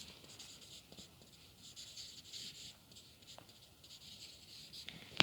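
Pen or pencil writing a word by hand during a math lesson, a faint, soft continuous scratching with small strokes and a tap near the end, quiet and close, with no talking.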